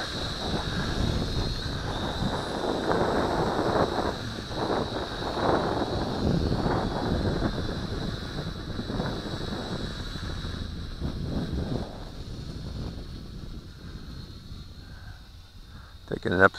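Wind buffets the microphone outdoors during a Syma X5C quadcopter flight, a continuous rough rumble heard close, with a thin steady high whine above it and someone talking over it.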